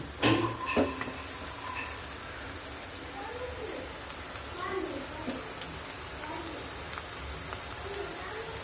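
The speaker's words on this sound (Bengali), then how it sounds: "পেস্টটা আর একটু ভাজা হোক" Spice paste fries in a pan with a steady, soft sizzle that hisses on without a break, while faint voice-like sounds come and go underneath.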